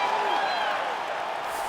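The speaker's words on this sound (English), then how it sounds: "The crowd's going crazy because they just saw two high-level grapplers mix it up on the ground." A UFC arena crowd roars and cheers for two grapplers scrambling on the ground, a dense wash of voices and applause that stays loud and steady throughout.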